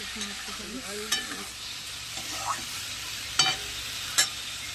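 Food fries and sizzles in a pan while being stirred, a steady low hiss broken by a few sharp clinks and scrapes of a utensil.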